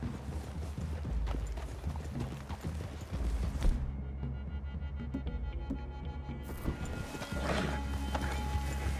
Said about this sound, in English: I'd leave your horses the other side of this clearing.